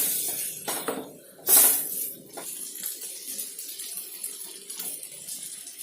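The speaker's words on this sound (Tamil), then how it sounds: "இந்த ஸ்டேஜில் வந்து கொஞ்சமாக தண்ணி விட்டுக்கலாம்." Water splashes and trickles into a gobi manchurian mixture in a container, with a brief louder pour early on, then settles into a steady low running sound; no talking.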